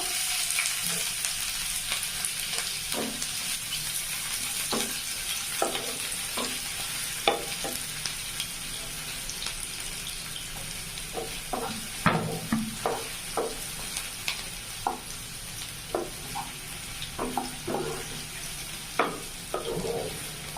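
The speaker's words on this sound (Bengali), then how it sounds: "কড়া তেতে গিয়েছে, এবার কাঁচা লঙ্কা দেবো। এবার পেঁয়াজ কুচি দেবো।" Chopped onions and green chillies fry in hot oil for a chana masala, giving a continuous bright sizzle with frequent clinking, scraping stirs of a spoon against the pan, busier toward the end.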